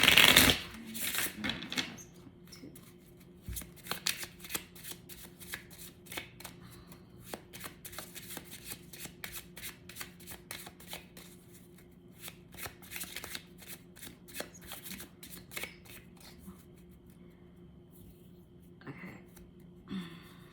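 Cards being shuffled repeatedly during a tarot reading, a crisp riffle at the start followed by long stretches of rapid flicking and tapping, close to the microphone.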